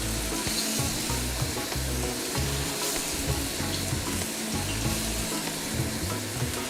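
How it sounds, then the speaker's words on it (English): Steak pieces sear flat side down in hot peanut oil in a wok, a loud, steady close sizzle with crackling spatter running throughout and no talking. "We're going to add this a piece at a time, flat side down, and we're going to sear for 2 minutes."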